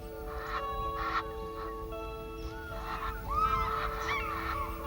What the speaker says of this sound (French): L'oie d'Égypte, contrairement à l'ibis sacré, existe encore en Égypte.